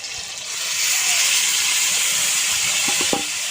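Meat poured into a hot pan for a Bengali meat-and-potato curry, a loud steady sizzle and hiss rising after a brief start and filling the rest, with a few light clinks near the end.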